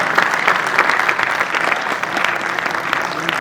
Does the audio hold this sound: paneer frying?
no